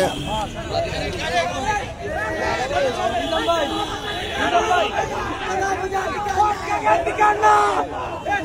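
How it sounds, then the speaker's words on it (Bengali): Two rival crowds of protesters at a Bangladeshi student movement gathering shout opposing slogans at each other, a loud, dense mass of chanting voices and babble running continuously without pause. "এখানে দুটি পক্ষ কিন্তু পাল্টাপাল্টি স্লোগান দিচ্ছে।"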